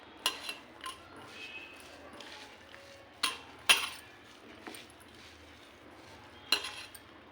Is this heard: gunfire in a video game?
no